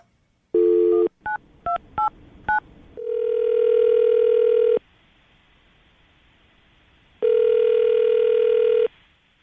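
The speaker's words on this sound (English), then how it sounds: "I'm going to dial the phone number right now" A dial tone, then a rapid series of touch-tone beeps as a number is dialed, followed by two long electronic ringback tones separated by silence.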